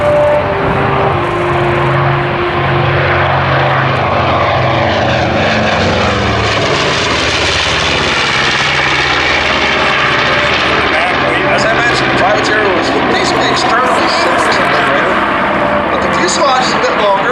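A WWII P4Y Privateer's piston engines and propellers roar steadily and loudly as the aircraft flies past, filling the whole stretch with a sustained drone that shifts in tone as it passes.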